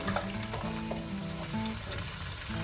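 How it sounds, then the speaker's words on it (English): Cabbage sautés in a pan for a vegetable curry, a steady close sizzle and crackle with occasional stirring scrapes. It runs continuously with no talk. "Saute this for a couple of minutes."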